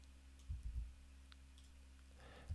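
A computer mouse gives several crisp left clicks: a quick cluster of two or three, then one more after a pause, close and fairly faint against quiet room hiss.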